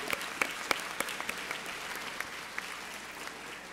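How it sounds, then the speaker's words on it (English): Applause from an audience at a high school veterans salute ceremony, a steady patter of many hands somewhat distant and reverberant, with a few louder close claps standing out. "I got to give a round of applause for that."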